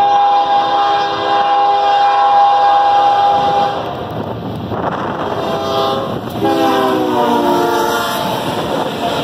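A CSX Q264 freight train led by a blue ST40-2 locomotive passes loudly at a road crossing, sounding a sustained multi-note horn in two blasts over heavy rumbling wheels and clattering cars.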